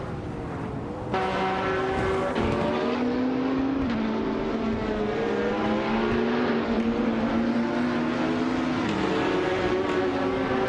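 AI-driven race cars circle a track in a racing video game; after a brief quiet start a loud engine kicks in and holds a droning, wavering pitch through shifts, with another car faintly layered underneath and no voices.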